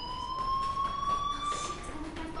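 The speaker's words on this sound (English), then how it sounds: "Hey, do you hear that fire alarm? That means you should be outside." A fire alarm sounds in the video game Life Is Strange: a steady, high electronic tone holds for about two seconds at moderate distance, fairly faint, with no talk over it.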